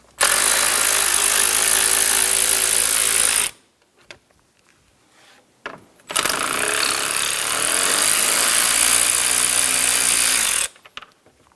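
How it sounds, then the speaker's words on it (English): A power tool with a 10mm socket spins out the fan bolts on a 2010-2014 Subaru Outback 2.5L H4, two loud, steady whirring bursts up close with a short quiet gap of small clicks between them. "Using a 10mm socket, remove the two bolts for the fans."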